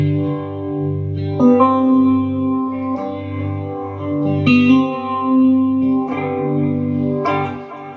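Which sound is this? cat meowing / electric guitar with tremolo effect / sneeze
electric guitar with tremolo effect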